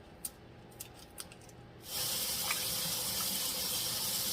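Water poured into a pot with beef bouillon cubes, starting suddenly after a few soft clicks as a loud, steady rushing and splashing stream that continues to the end.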